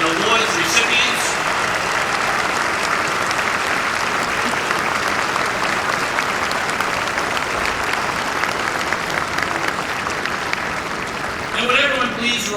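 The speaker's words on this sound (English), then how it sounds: "a round of applause for all this year's medal and awards recipients." Sustained, steady applause from a large audience at a police medal and awards ceremony, a dense wash of clapping that holds at an even level for over twelve seconds, with faint speech near the start and end.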